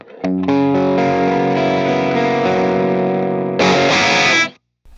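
Electric guitar through a Mini 50 tube amplifier set at half volume on 50 watts, a loud distorted chord ringing out and sustaining, then a brief scratchy strum before an abrupt stop.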